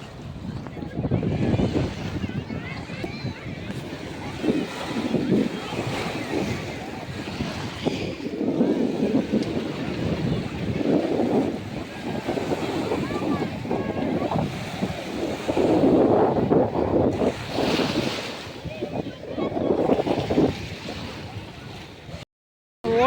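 Sea waves break on the beach at Velankanni, a steady rushing surf with swelling crashes and heavy wind buffeting the microphone throughout.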